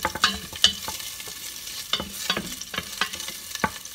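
Garlic fries in a pan while a utensil clicks and scrapes against the metal in scattered close knocks over a faint background sizzle; no one speaks.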